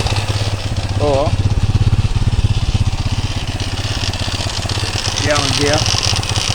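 A Honda FTR 230 engine fitted in a CTX200 motorcycle frame idles close by with a steady, rapid low thrum, while a person briefly speaks over it twice.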